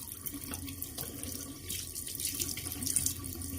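Tap water runs into a sink while a razor is rinsed off, a steady splashing stream that swells slightly near the end, close and moderately quiet, with no speech.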